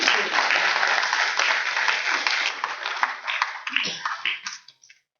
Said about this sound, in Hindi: आपका तालियों से स्वागत होना चाहिए